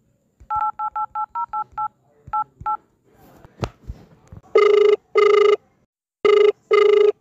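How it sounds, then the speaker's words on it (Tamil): A run of quick touch-tone beeps as a telephone number is dialed, a short pause, then two pairs of loud, close electronic ringback tones on the line. "ஃபோன் பண்ணி பார்ப்போம்."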